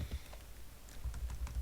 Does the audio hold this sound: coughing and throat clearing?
no